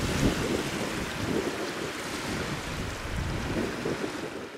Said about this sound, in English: a strengthening northwest wind was blowing against the now incoming tide, causing white waves to form on the surface.